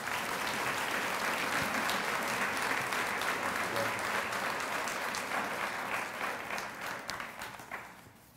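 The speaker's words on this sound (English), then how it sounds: "please give a big round of applause for Professor Simon Ortiz" A large lecture audience applauds steadily in dense, sustained clapping that holds for several seconds and then starts to fade toward the end.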